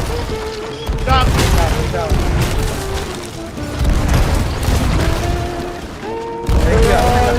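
Gunfire in a pirate video game comes as repeated booming shots and bursts over a dense, loud game soundscape, with players talking and shouting excitedly throughout.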